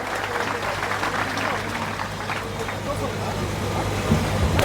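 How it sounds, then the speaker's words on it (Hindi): A crowd at a political rally claps for Ashok Gehlot in Neem Ka Thana, a dense steady wash of applause with a low hum beneath it, rising slightly toward the end. "जोरदार तालियां एक बार।"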